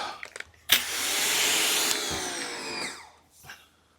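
A pressure washer spraying through a 40-degree rinse nozzle: a short hiss and rush of water that rises sharply, holds for about two seconds, then fades, with a few small clicks and knocks around it.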